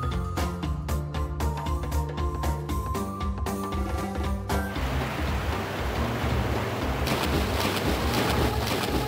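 Tomba jumping into river water, music playing first, then a loud sustained splashing and churning of water that carries on to the end.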